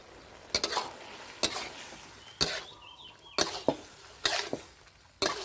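Sizzling of sliced green and red chili in a hot wok, several sharp scraping stirs at irregular intervals, fairly close, with no talking.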